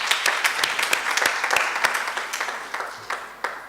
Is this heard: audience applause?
yes